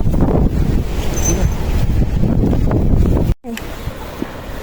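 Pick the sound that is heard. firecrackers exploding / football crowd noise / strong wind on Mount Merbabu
strong wind on Mount Merbabu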